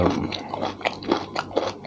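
Close, crisp crunching as boiled beef tendon-like offal is bitten and chewed, a few distinct crunches in quick succession with no talking.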